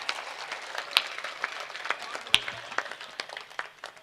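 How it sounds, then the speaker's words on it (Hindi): Scattered, thin clapping from an audience at a Hindi comedy show, a few claps rising out of background noise at moderate level. "मैं चाहता हूँ आप खुद के लिए एक बार पूरा सदन हाथ खड़े करके जोरदार तालियां बजाए"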